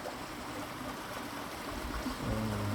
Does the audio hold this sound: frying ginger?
no